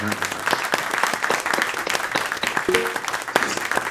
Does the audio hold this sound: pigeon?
no